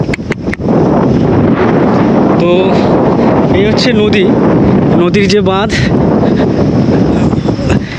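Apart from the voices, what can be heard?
strong wind by a river embankment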